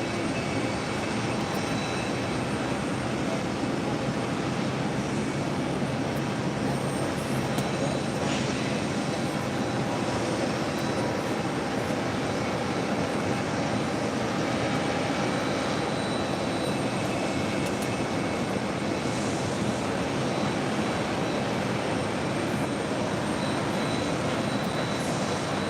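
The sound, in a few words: Airbus A330-800 jet airliner engines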